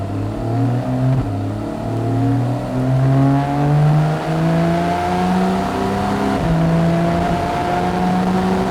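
A Porsche 911 Carrera S (991.1) engine revs and climbs through the gears, its deep burbling exhaust note rising in steady pitch sweeps, loud and close with no talking.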